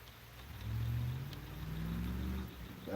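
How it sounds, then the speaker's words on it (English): A truck pulls away from a boat ramp at night on a lake, its mid-pitched engine swelling as it accelerates, holding a steady drone, then fading off, heard from a moderate distance without talk. "That truck didn't stay long at that boat ramp."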